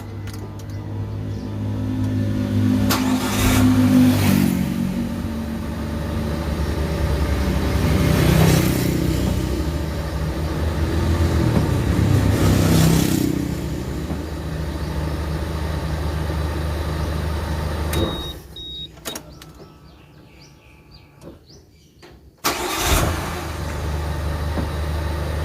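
A boxy Suzuki Karimun's engine runs near at hand with a low rumbling hum and a few swells in revs, then cuts off abruptly late on before a faint restart.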